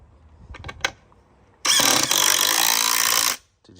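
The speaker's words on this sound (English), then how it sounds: "Impact driver, you can use normal drill, but impact driver's a little bit better." An impact driver driving a concrete screw on a driveway install: after a few quiet knocks, a loud, steady hammering rattle runs for nearly two seconds close by, then stops abruptly.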